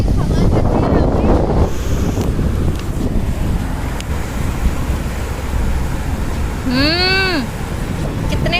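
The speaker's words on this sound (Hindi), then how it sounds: "हवा चल रही है" Strong wind at Miramar Beach in Goa buffets the microphone in a constant loud roar, and a voice speaks briefly over it near the end.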